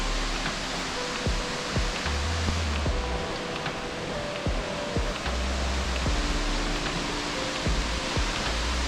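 Aberdeen waterfall near Ginigathena in Sri Lanka crashes in a steady, full-bodied roar that fills the whole scene, with faint intermittent tonal hums beneath it.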